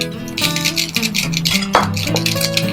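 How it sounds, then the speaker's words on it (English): Fried shrimp are added to a pan of bottle gourd and spices, with metallic clinks and scraping of a utensil against the pan over a soft background tone. Small knocks and a sharper clatter occur near the middle. "now into that we are going to go ahead and add in all our fried shrimp"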